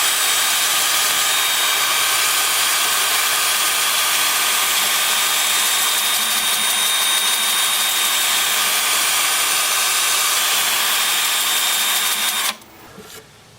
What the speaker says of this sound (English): So with lathe spinning forward at about 350 RPM,